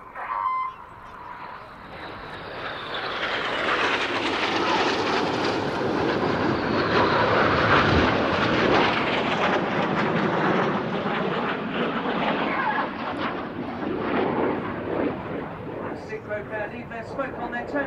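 RAF Red Arrows jets make a flying display pass at an air show, a roaring engine noise that swells to a sustained loud rush and then fades, with a commentator talking over it.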